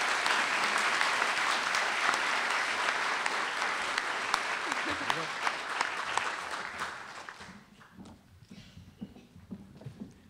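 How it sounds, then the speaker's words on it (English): A convocation audience at UCR's 2018 Academic Merit Convocation applauds award recipients leaving the stage, steady dense clapping that fades out over the last few seconds. "Let's recognize them all with a round of applause as they exit the stage."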